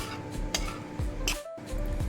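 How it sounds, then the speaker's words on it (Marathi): A spoon stirs barnyard millet rice in a pot after water is added, giving several scraping and clinking strokes close by with a soft sizzle underneath and no voices. "आता याला वऱ्याच्या तांदळाला छान मिक्स करायचं।"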